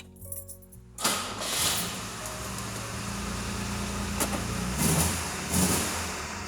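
A 1969 Jaguar E-Type engine catches after a brief quiet start and settles into a steady, loud idle close by, with a few short revs rising above the running note.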